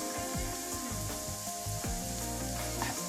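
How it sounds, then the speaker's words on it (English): Coriander powder, garam masala, cumin powder and salt roast in a pan with vegetables for a vegetable cutlet. A steady, moderate sizzle carries light stirring rubs over a faint tonal background. "just to roast the spices so the raw flavor will vanish"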